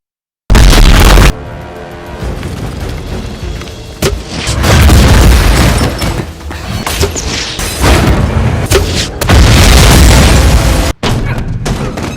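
Weapons fire and explosions from a film scene: loud booms and crashing blasts follow one another in dense succession, with a rumbling, chaotic mix and brief gaps between impacts.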